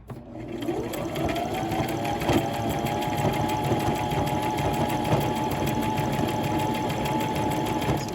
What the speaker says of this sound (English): Continue stitching all the way around the top edge of your pants